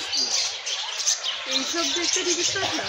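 Sharp, high chirps and squawks from lovebirds at a zoo in Dehradun, over steady background noise, with a person talking in the second half.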